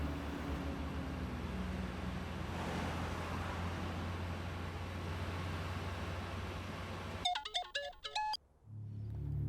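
Steady road-like hum fills most of the clip, then a brief electronic phone ringtone chirps out near the end before cutting off.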